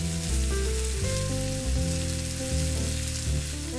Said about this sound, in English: Sizzling restaurant style bulgogi